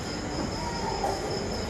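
Steady rumble of a passenger train in motion, heard from inside a carriage, with a constant hiss and a faint high whine running through it at a moderate, even level and no talk.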